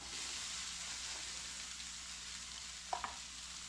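Mushrooms, green onions and tomatoes fry in bacon fat in a pan, giving a soft, steady sizzle with a couple of faint clicks near the end.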